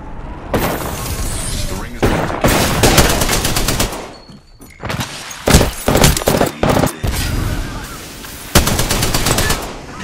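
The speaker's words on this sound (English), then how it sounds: "Getting shot at." Rapid bursts of automatic gunfire in an Apex Legends-style shooter game, loud and close, coming in clustered volleys with short gaps and a voice talking in between.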